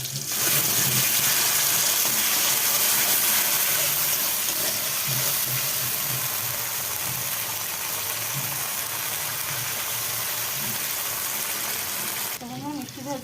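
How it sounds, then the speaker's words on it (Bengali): Tomato, bay leaf and spices hitting hot oil in a pan while cooking Bengali food: a loud, steady broadband sizzle that runs nearly the whole time, close up, with a brief change near the end. "কোচানো টমেটো দিয়ে তেজপাতা এরকম মশলাটা আমি দিয়ে দিচ্ছি।"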